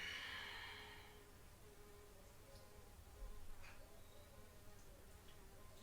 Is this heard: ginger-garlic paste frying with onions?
no